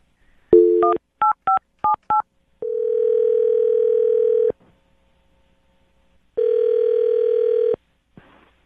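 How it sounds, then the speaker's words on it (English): A telephone is dialed, first with a quick series of short touch-tone beeps, then with two long steady ringback tones separated by silence, clear and close. "I'm going to dial his phone number right now"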